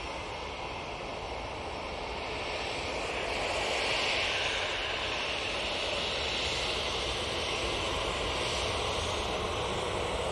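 An easyJet Airbus A320 departs Manchester Airport for Oslo, its distant, fairly faint jet rumble holding steady and swelling slightly midway, with no talking.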